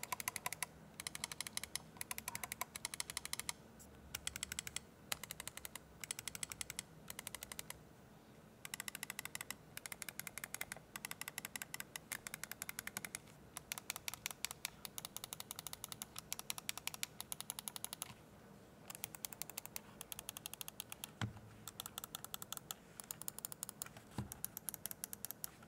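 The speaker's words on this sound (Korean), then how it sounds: "클릭감을 비교해보면" Rocat wireless computer mouse buttons clicked in rapid rhythmic bursts, a dense stream of small sharp clicks with brief pauses between runs, close and fairly quiet.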